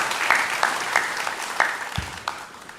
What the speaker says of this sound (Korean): 우리 영광의 박수를 우리 하나님께 올려드리겠습니다.